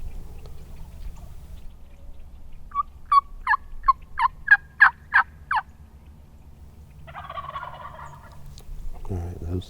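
Wild turkeys gobbling during a fight while being called on public land: a run of about eight sharp, rapid gobble bursts in quick succession, moderately distant and outdoors, followed by softer rustling and background noise.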